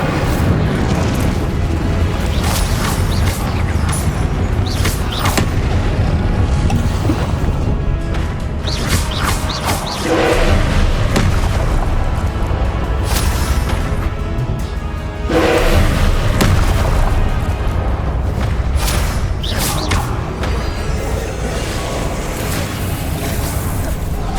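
Spell blasts from Confringo and Incendio firing in Hogwarts Legacy on PS5, a dense run of booming impacts, crashes and thuds over continuous game noise and music, loud and close with several sharper bursts.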